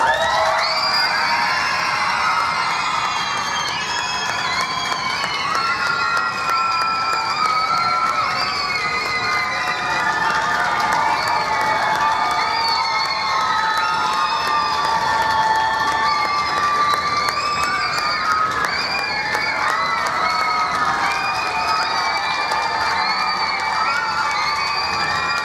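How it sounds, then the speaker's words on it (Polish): A concert audience at a Christmas choir performance in Tczew, many of them children, shouts, shrieks and claps in a sustained loud uproar lasting throughout with no pause. "musimy krzyczeć, klaskać, tupać i w ogóle zrobić dużo hałasu"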